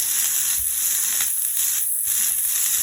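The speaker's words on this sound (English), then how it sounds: "Put the pork chops into the same pan." Pork chops seasoned with salt, pepper and garlic hiss and sizzle steadily as they brown in a pan that just cooked onions; a constant, close frying crackle with no talk.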